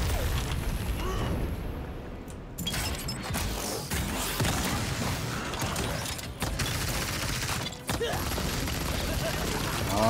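A Scouter class in the game Lost Ark keeps firing basic attacks, producing a dense, continuous barrage of mechanical shots and impacts layered with busy game effects and a voice talking over it.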